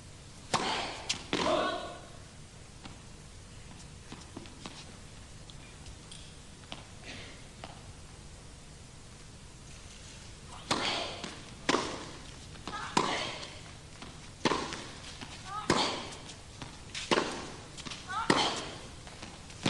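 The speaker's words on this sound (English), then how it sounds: "that was a lovely forcing rally" Professional women's tennis match from 1989, with a baseline rally of hard-hit groundstrokes: sharp, evenly spaced racket-on-ball pops trading back and forth, sparse at first and then quickening in a fast burst, with commentary under the play.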